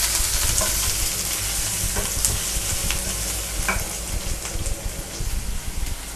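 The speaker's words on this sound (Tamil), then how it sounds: "வெங்காயம் நல்லா ஃப்ரை ஆகணும்." Chopped onions frying in a pan over high flame alongside a browned dried red chili, giving a dense, steady, close sizzle with stirring scrapes throughout and no voices.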